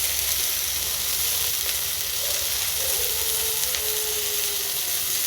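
Chickpea dal with crushed ginger and chili frying in a pan gives a steady, even sizzle and hiss throughout, with a few faint stirring scrapes and no talking.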